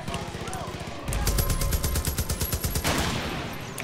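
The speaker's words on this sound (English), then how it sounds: "oh look, there's a machine gun here." Rapid machine-gun fire in the video game Far Cry 5, a dense stream of loud, close bursts that stops for a moment near the start before resuming, with game speech alongside.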